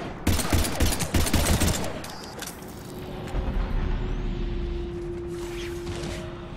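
Gunfire in the sci-fi shooter Mass Effect 3, a loud volley of rapid shots up front that fades into a lower, sustained rumble of fighting with a few scattered distant pops.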